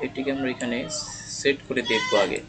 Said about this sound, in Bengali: তো ছাগলের ডাক শোনা যাচ্ছে